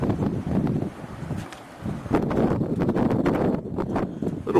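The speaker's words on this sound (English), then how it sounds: "A little windy today, a little cool." Gusty wind buffets the microphone, producing a continuous low rumbling roar with rustling bursts.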